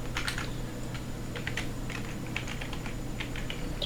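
Rapid, close clicking of keys on a computer keyboard as a player's name is typed, in quick irregular bursts over a low steady background hum.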